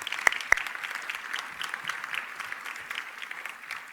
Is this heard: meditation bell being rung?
no